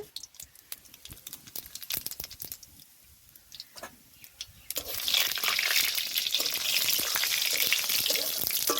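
Whole cumin seeds hit hot oil with a sudden burst of crackling sizzle that stays loud and steady after a quieter stretch of faint pops and small clicks.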